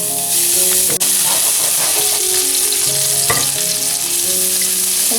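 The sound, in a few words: minced meat stir-frying in a wok for mapo tofu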